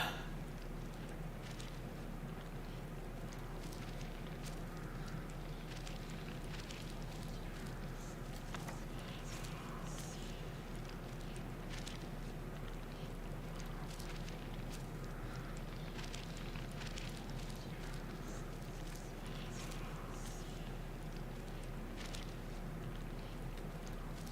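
Wind ambience in the video game Skyrim, a steady broad rushing whoosh that fills the background without pause, with faint scattered crackles and no talking over it.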